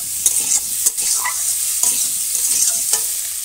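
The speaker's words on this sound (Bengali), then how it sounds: "তেলের পরে জিরে দিয়ে পেঁয়াজ দিয়ে তারপর আলু দিয়ে লবণ হলুদ দিয়ে এখন এটা নাড়বো" Potatoes and onions fry in oil with cumin, salt and turmeric while a utensil stirs them, giving a close, steady sizzle broken by repeated scraping strokes, with no voices.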